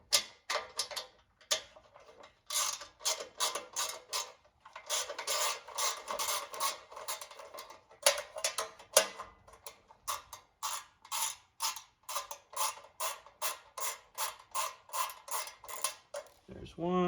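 Metallic ratcheting and creaking as chassis bolts are worked loose on a Centipede arcade cabinet, a long run of close, rhythmic clicks with brief pauses and a heavier clunk at the end.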